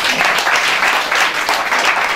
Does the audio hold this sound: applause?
yes